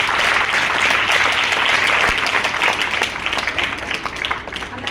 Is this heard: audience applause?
yes